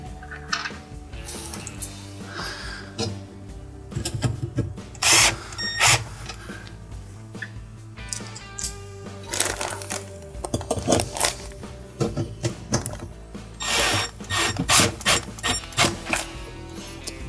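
A power tool drives screws into a Maytag dishwasher slide rail during a repair, with bursts of whirring and ratcheting clicks between quieter handling clatter and metallic rattles, all close up, with no talking.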